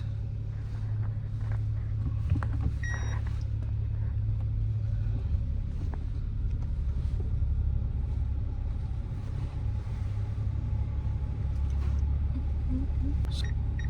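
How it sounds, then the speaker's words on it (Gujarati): A car engine idles steadily just after starting, a constant low rumble from inside the vehicle, with faint bits of movement and noise over it. "ગાડી સ્ટાર્ટ થઈ ગઈ છે"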